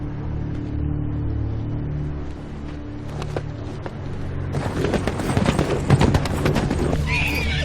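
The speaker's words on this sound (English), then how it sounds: "That's my Uncle Benjen's horse." Horse whinnies and hooves clip-clop on ground in a medieval-fantasy Game of Thrones scene, a riderless horse arriving; a low steady rumble underlies it, with busier hoof and movement noise building toward the end.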